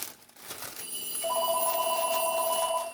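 An indoor telephone rings with a steady electronic bell tone that starts about a second in and holds continuously, clear and fairly close, over a quiet room.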